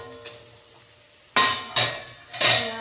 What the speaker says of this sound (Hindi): बीन्स आलू फ्राई कर रही हूँ